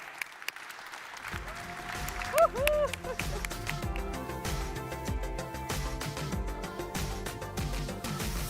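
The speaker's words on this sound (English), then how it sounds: "please give a big round of applause to them" An audience applauds a panel at a Web3 and AI conference, the clapping swelling in after a quiet start into sustained, dense applause over a faint murmur.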